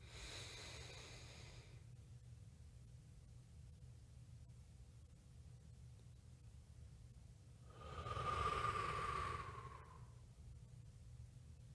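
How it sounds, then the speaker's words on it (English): One person takes a slow deep breath: a soft, close inhale at the start, a long quiet hold, then a fuller, louder exhale near the end, with no talking. "Let's breathe in."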